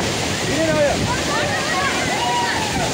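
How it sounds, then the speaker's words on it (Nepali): Mohini waterfall with a large volume of water pouring down, a constant loud rushing roar filling the whole scene, with voices faintly audible beneath it. "हामी त यहाँनिर मोहिनी झर्नामा आएको छु"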